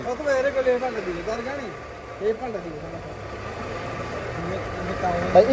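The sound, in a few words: used car engine idling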